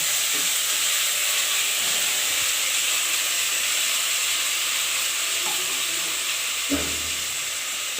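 Onion frying in a pan for Rajasthani gatta curry, a loud, dense, steady sizzle and hiss heard close up, with a brief clink of stirring near the end.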